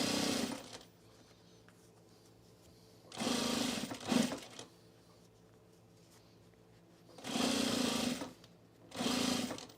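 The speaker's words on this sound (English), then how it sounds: "the sewing's going really fast" A sewing machine stitches fabric for bowl cozies in three fast, whirring bursts of a few seconds each, close by, with quiet pauses between them.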